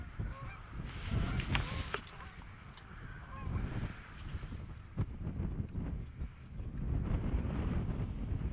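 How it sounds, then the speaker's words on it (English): Several geese honk repeatedly at close to moderate range outdoors near water, with loud wind buffeting the microphone throughout. "it was some nice geese"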